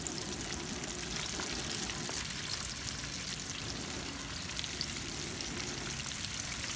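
Chicken fries in hot palm oil, a steady, even hiss and crackle of sizzling that holds constant throughout at moderate volume, with no talk.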